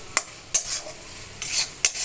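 Ground coriander and cumin are stirred in a hot frying pan, several scraping spoon strokes with a light sizzle under them, close and with no talking.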